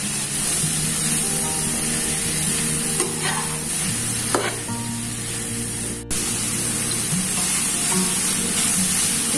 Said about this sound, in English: Now we will add the fried banana. We will mix it.